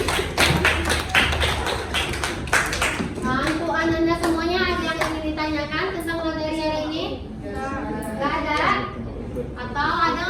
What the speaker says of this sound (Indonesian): Oke, tepuk tangan kamu untuk Jenita.